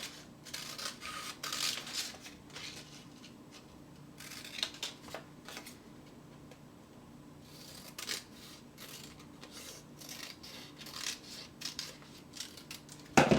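Scissors cut out fabric pieces for a CD pouch. The blades make a sequence of close, crisp snipping and slicing sounds in irregular bursts, with small handling noises between them and no talk.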